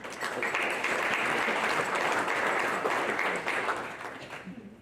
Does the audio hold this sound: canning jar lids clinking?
no